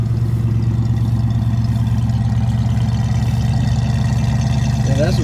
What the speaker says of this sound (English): Listen to the pipes in the back.